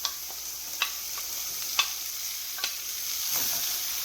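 Zucchini sizzles in a pan over medium heat, a steady hiss broken by a few sharp clacks of stirring against the pan, close and alone without talk.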